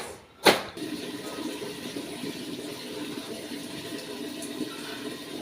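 A mother's saree is hand-washed in water after soaking in detergent, with one sharp splash near the start, then a low, even background with no talking.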